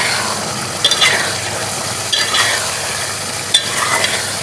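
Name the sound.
frying and stirring spiced liver masala in a pan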